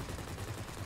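Gunfire in World of Warplanes as a dense, continuous rattle of rapid shots, loud and unbroken through the brief moment.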